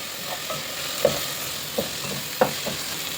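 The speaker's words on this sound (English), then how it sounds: "mix everything well and cook until the oil starts separating" Chole masala with turmeric, Kashmiri red chili powder and garam masala frying in oil, with a steady close sizzle and several soft spoon scrapes as the mixture is stirred, no talking.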